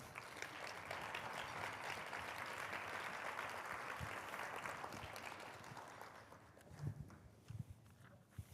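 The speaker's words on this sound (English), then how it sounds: "Give them a round of applause." Audience applause as four experts come on stage at a food waste panel event, a dense sustained clapping that gradually thins and fades, leaving scattered claps and some footsteps near the end.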